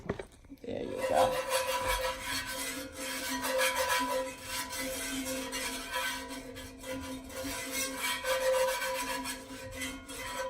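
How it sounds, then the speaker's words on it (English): A utensil scrapes stuck seasoning from a frying pan after cube steak, a continuous gritty rasping and rubbing, close and steady for the whole stretch with uneven strokes. "you gotta get that seasoning that's stuck down in there from them cube steak"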